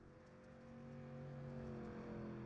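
A dirt street stock race car engine in an iRacing simulation at Cedar Lake Speedway drones steadily with a low, sustained tone that builds slightly in loudness, heard alone without talk.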